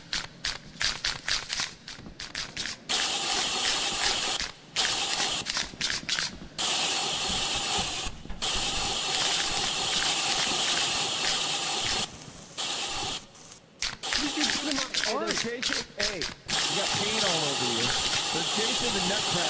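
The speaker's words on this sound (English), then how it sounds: "This is the loudest spray paint I've ever heard." Spray paint can in the video game Lethal Company, hissing in long loud bursts broken by short gaps, with people talking over it throughout.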